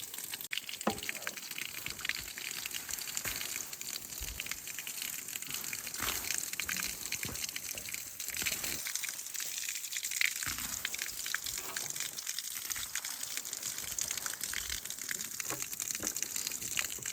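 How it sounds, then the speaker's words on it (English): Spring water gushes and splashes steadily into a bottle outdoors at an off-grid Alaskan cabin, a continuous close watery rush with small gurgles, no talking. "It's not going to take long to fill this bottle up"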